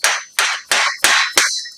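A dead blow hammer taps factory-made parts together in five sharp, evenly spaced blows, each a dull close knock that rings out briefly before the next.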